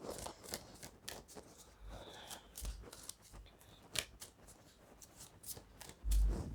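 Tarot cards are shuffled and laid out by hand, crisp close-up bursts of riffling and sliding card stock in quick succession, ending with a soft thump as the cards are set down.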